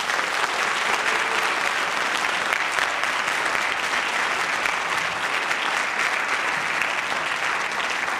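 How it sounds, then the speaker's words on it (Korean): Sustained audience applause fills a youth orchestra concert hall, dense and even clapping that holds steady throughout at close range. "박수."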